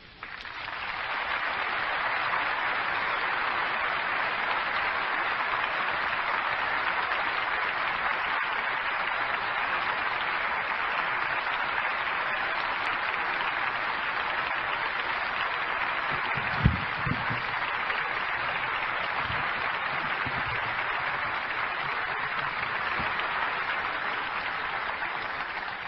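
Audience at a Jehovah's Witnesses public talk applauds in a long, steady, even wash of clapping that holds for the full stretch, with a few isolated thumps partway through.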